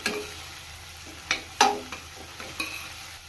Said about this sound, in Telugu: పచ్చి బఠానీ ఇది ఫ్రై చేసుకోవాలి బాగా